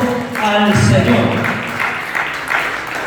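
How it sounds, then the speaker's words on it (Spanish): A church congregation gives a strong burst of applause during a Spanish-language sermon, loud and dense at first, then thinning into scattered claps and voices over a few seconds. "den un fuerte aplauso al Señor"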